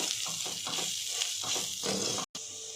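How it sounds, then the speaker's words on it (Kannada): Okra and peanuts frying in a pan with coriander powder, chilli powder and salt give a steady close sizzle with intermittent stirring scrapes, broken by a brief silent gap near the end. "ಈಗ ಇದನ್ನು ಚೆನ್ನಾಗಿ ಫ್ರೈ ಮಾಡ್ಕೋಬೇಕು"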